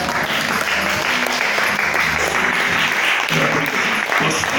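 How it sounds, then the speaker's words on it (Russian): Audience applause fills a concert hall after a tribute performance, a steady, dense wash of many hands clapping that runs loud and continuous throughout, with a few voices faintly mixed into the crowd noise. "Еще раз аплодисменты."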